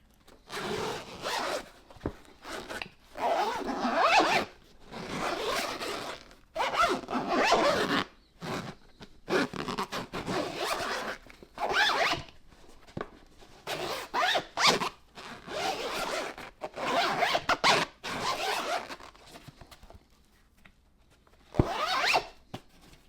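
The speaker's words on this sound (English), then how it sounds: "you can zip and unzip this multiple times without issue" Zipper on a Sonos Ace headphone case being zipped open and shut again and again, a close, loud rasping in repeated strokes with short pauses between them, and no talking.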